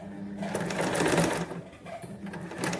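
Sewing machine stitching a puff sleeve on a katori blouse, a close, steady mechanical whirring and rattling that swells and eases slightly, with faint talk underneath.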